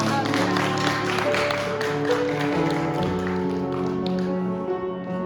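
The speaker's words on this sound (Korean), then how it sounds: "자, 돌아서시고 박수합니다." Church congregation clapping during a Sunday service, steady applause mixed with sustained musical tones, loud and continuous under a faint voice.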